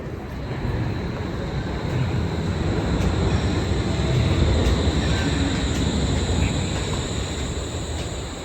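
The Wuppertal Schwebebahn suspension train moves along its overhead track, a loud, steady rumbling roar with a faint high whine on top, continuous throughout.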